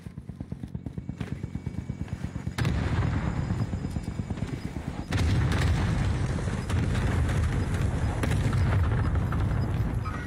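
Video game gunfire in a multiplayer shooter match, a dense stream of rapid shots layered with rumbling booms that grow louder partway through, close and continuous, with no talking.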